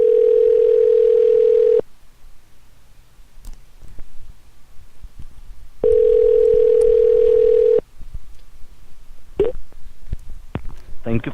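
Telephone ringback while calling a tech support number: two long, steady, loud tone bursts separated by a few seconds of quiet line noise, with faint clicks after.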